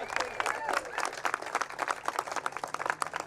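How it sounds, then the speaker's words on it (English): Audience applauding at a Democratic National Convention 2024 press conference in Chicago, a steady round of clapping from a crowd with voices and murmuring mixed underneath. "So we can applaud her."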